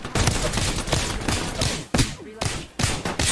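Mastiff shotgun fire in a video game, several loud, sharp blasts spaced irregularly across the span, with dense game noise between them and no speech.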